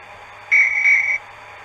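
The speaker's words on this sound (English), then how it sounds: "just try the guard's whistle" Guard's whistle from a TTS sound decoder in a model Britannia locomotive, a single short shrill blast lasting under a second, clean and steady over a faint background hum.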